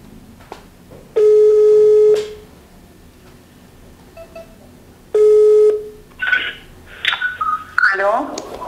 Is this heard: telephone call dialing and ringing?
yes